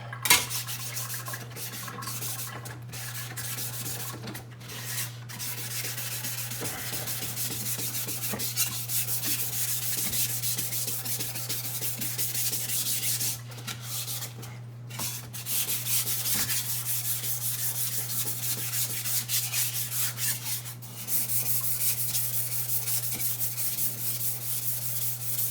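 Knife being sharpened on a 1000 grit whetstone, with steady rhythmic scraping strokes that continue for the whole stretch, close up, over a constant low hum, with brief pauses.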